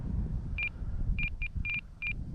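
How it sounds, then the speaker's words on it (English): A radio-controlled airplane flying in wind gives off a string of short, sharp electronic beeps, single and in small clusters, over a low rumbling buzz of wind and motor. "I got to get rid of all that buzzing, that beeping sound."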